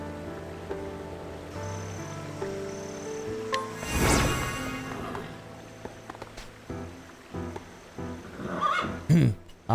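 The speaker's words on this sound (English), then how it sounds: "All my horses are chomping at the bit today" Horses in the video game Octopath Traveler II neigh and whinny, with a loud central whinny and quieter snorts and calls around it over soft background music.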